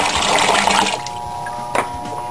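Water poured from a bucket into an Alto Shaam commercial fryer pot for a boil-out: a loud rushing gush that cuts off after about a second, leaving a quiet hum and a single short splash.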